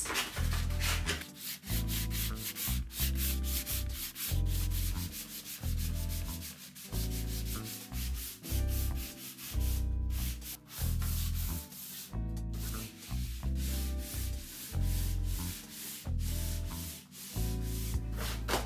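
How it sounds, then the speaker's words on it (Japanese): Steady back-and-forth rubbing of 320-grit sandpaper on a scrap of 2x4 wood, close and continuous with a regular stroke rhythm and no talking. "削っていきます。"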